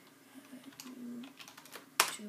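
Typing on a computer keyboard to enter chat in a Minecraft skyblock server: a quick run of close, crisp key clicks, ending in one sharp louder clack.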